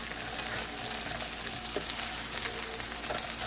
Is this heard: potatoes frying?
yes